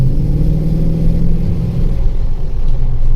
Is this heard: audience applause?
no